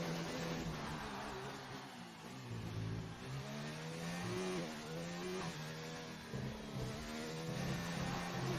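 An F1 car engine from a racing video game on a lap of the Australia round revs and shifts through gears, the pitch climbing and dropping repeatedly at moderate, steady volume.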